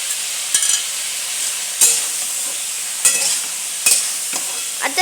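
Bombil, Bombay duck fish, fries in a pan with a bright, steady sizzle, broken every second or so by louder scraping bursts as a spatula stirs the pieces.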